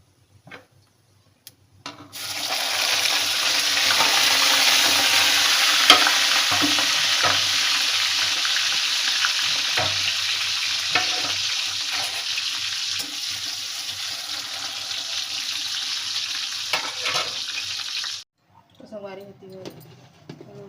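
Cumin seeds land in hot oil in a kadai and burst into a loud, steady sizzle close up, holding strong for about sixteen seconds before cutting off, with faint clatter before and after.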